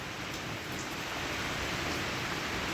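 Heavy rain pours down steadily during a thunderstorm in Uganda, a dense, continuous hiss of downpour that stays loud and unbroken throughout, with no voices.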